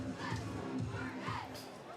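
The crowd at a high school football homecoming game in Mustang Stadium gives off a steady, fairly distant murmur with scattered shouts and a few raised voices. It stays fairly faint and continuous throughout.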